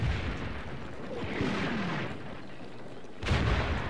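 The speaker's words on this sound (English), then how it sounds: "it is American, you know, Allied artillery" Allied American artillery fire in the Combat Mission World War II game, rumbling distant booms and rolling explosions, with a heavy fresh blast hitting near the end, no voices present.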